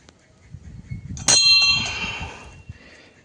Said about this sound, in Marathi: घंटा वाजून आपण जाऊया.